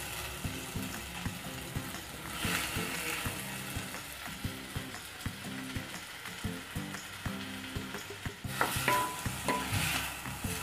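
Onions lightly frying in a pan while being stirred, giving a steady close sizzle broken by repeated scraping strokes of a spoon, with louder stirring near the end.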